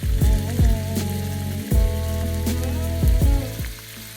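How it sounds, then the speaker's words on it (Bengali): Prawns dropped one by one into hot mustard oil over a low flame, each landing with a loud burst of sizzling that settles into a steady fry, repeating several times without any talking. "তেলটা ভালো মতো গরম হয়ে গেলে ফ্লেমটাকে লো করে দিয়ে একে একে মাছগুলোকে দিয়ে দিতে হবে"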